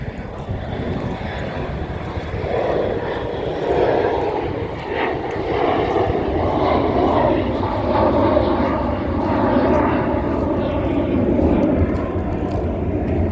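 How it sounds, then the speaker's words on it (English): A loud, broad engine roar from aircraft passing overhead, swelling and fading in waves, with faint voices underneath. "Planes overhead."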